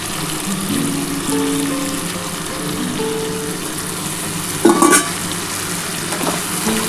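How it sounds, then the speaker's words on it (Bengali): Spice water poured into mutton masala frying for a Dak Bungalow curry, a loud steady sizzle and stirring with a sudden watery splash and burst of hiss near the end, close up and without speech. "এই যে দেখো বন্ধুরা মশলার জল এটাই আমি কিন্তু এর মধ্যে দিয়ে দিলাম দিয়ে এই জলটা ঢেলে দেবো"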